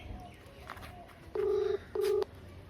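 Mobile phone keypad tones, with two loud, steady electronic beeps in quick succession close by over a quiet room background.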